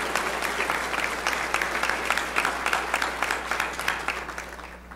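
Audience applause at a spring university convocation, a dense, sustained round of clapping from a large crowd filling a hall, steady and loud throughout.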